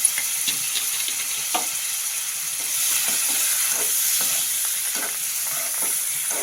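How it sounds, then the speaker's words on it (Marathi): Paneer frying in Amul butter over a low flame, a close, steady bright sizzle with occasional soft clicks and taps of stirring, fairly even in loudness throughout. "आणि त्याच्यामध्ये आपल्याला हे पनीर तळून घ्यायचं छान. हे छान परतून घ्यायचं."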